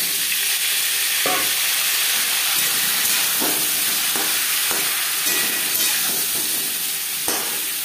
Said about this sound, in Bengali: ফোড়নের সাথে আলু আরও 3-4 মিনিট ভেজে নেব